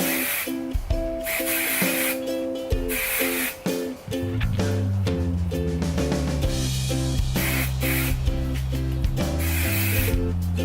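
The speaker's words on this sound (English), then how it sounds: "just add a little hairspray" Repeated short hisses of hairspray from an aerosol can, in bursts over steady background music.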